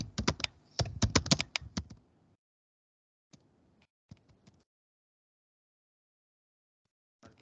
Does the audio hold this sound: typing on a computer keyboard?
yes